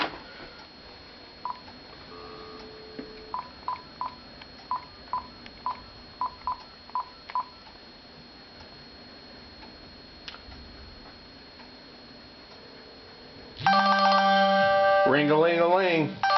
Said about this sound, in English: It's me calling my cell phone from my landline.